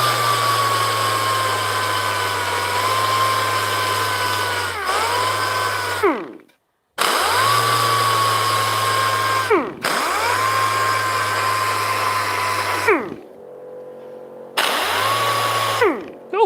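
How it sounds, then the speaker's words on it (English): Air compressors in a scroll-saw and pyrography workshop run loud and close in long droning cycles, cutting out abruptly several times with brief silent gaps before starting up again. "Oh, my compressors are saying hi again."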